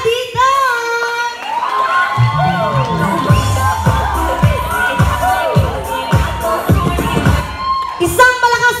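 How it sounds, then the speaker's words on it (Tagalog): A lively crowd at a child's first birthday party at an events venue cheers, whoops and shouts loudly, children's voices among them, over thumping party music, with a host's voice cutting through near the end. "And once again, isang malakas na palakpakan for Baby Cassie with Daddy Dan!"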